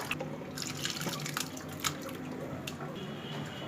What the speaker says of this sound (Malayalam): ഈ പാല് പനീറാക്കിയത് ഒഴിച്ചു കൊടുക്കണം